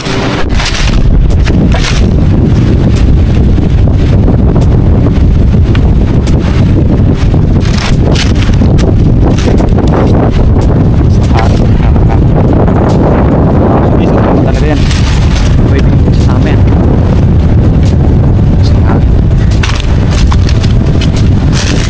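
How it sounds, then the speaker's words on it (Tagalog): Strong wind on an island buffets the microphone with loud, continuous roaring gusts for the whole stretch, with a voice faintly mixed beneath the rumble. "Napakalakas ng hangin guys."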